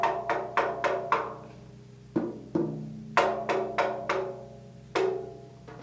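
Acrylic drum kit snare being struck during tuning, a series of separate ringing hits in an uneven rhythm, each with a sharp attack and a short tonal decay, heard alone.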